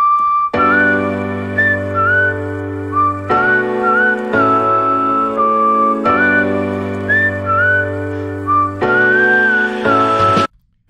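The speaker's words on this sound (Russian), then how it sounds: "когда свист используют" Clear melodic whistling in a Stray Kids song, repeated bright whistled phrases over a loud backing track with a steady beat, ending abruptly.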